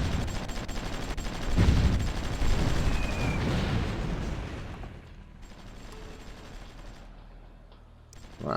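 An artillery bombardment in the strategy game Supreme Ruler Ultimate makes a dense, rumbling roar of blasts that swells early, then thins and fades into a quieter, distant haze.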